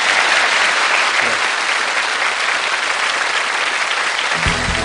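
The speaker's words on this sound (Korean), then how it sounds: "고영숙 씨에게 박수 부탁드리겠습니다" Steady, loud audience applause in a Korean lecture-show studio, dense clapping holding evenly throughout, with a brief voice entering at the very end.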